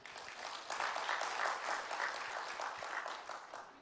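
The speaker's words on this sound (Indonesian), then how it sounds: "Berikan tepuk tangan ya buat Tuhan Yesus ya." A church congregation applauding during a sermon, dense clapping from many people that swells and holds steady, with a few faint voices underneath.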